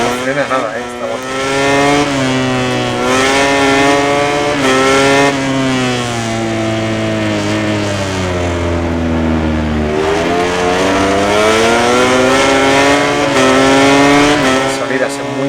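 A motorcycle engine in the MotoGP video game on PS4, during qualifying at the Catalonia Grand Prix, revs hard and continuously, its pitch climbing and falling through gear changes and braking over the whole stretch.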